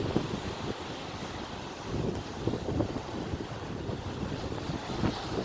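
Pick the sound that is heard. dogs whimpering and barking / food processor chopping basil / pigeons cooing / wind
wind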